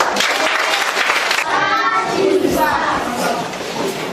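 A crowd at a classroom commissioning in Plateau State, Nigeria claps loudly and continuously, with children's voices and chatter mixed into the applause.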